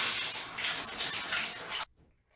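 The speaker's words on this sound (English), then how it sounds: "see, the water's still running" Water runs from a bathtub spout with a leaking diverter, a loud close hissing splash that carries on steadily before cutting off abruptly into near silence.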